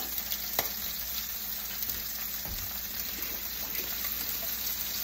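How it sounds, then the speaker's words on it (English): Steak frying in a pan at four in the morning, a steady soft crackling sizzle with a faint hiss throughout and an occasional small clink, quiet and close with no talking. "the sound of cooking meat"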